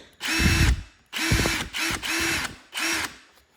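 A DeWalt Xtreme 12V screwdriver, model DCF601F2 with a quarter-inch hex chuck, whirs in five short bursts of motor whine, each spinning up and stopping with brief gaps between, close and clear with no speech.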